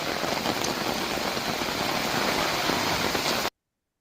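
Steady, dense rain falling outdoors during a storm, a constant close wash of noise with no distinct drops standing out and no one speaking.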